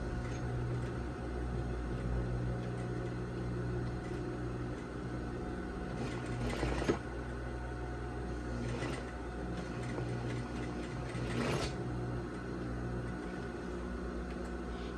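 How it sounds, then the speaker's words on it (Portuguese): A sewing machine slowly re-stitches along a zipper seam on a lab coat, a steady low mechanical whir with a few sharper clicks and rattles of the mechanism. No voices are heard. "Vou repassar a costura bem devagarzinho."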